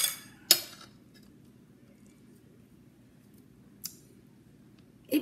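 A metal spoon scraping seeds out of a halved spaghetti squash, a few sharp scrapes and clicks separated by quiet stretches, close and distinct.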